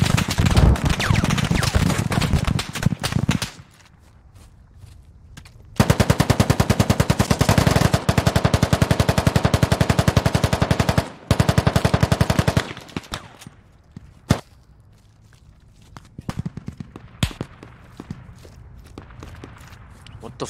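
Machine gun fire in the military shooter Squad during a mortar FOB offensive, heavy sustained bursts close by with long continuous volleys, broken by pauses, single distant shots and footsteps, with voices talking over parts of it.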